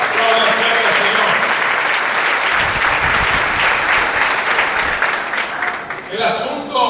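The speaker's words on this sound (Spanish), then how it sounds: "Aplaudan fuerte al Señor" A church congregation claps loudly and continuously, a dense, close roar of many hands that tapers off near the end as a voice returns.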